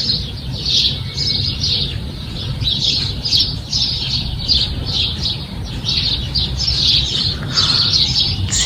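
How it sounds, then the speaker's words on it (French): Small birds chirp and sing in repeated bright bursts over a quiet residential street, their calls fairly close and steady against a low background hum. "Et les oiseaux sont trop contents, écoutez."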